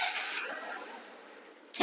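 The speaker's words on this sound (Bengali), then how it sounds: "দেখেন স্টার্ট এবং সাউন্ড কাকে বলা হয়" A second-hand Honda SP Shine motorcycle with CBS brakes starts up, a short mechanical rumble that fades, then a sharp burst at the very end, heard close and alone.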